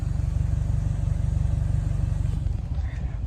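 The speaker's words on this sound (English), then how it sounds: "But we're on the Impreza, so listen to that." A Subaru Impreza engine running, a loud, close, pulsing low rumble with a steady rapid beat that holds throughout and slightly eases near the end.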